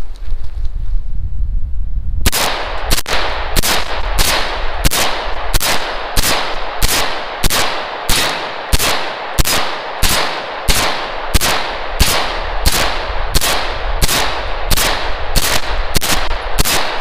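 A 30-round magazine fired semi-automatically, about twenty-five sharp loud shots in an even steady rhythm roughly every half second, close and outdoors, with breezy background noise before the first shot.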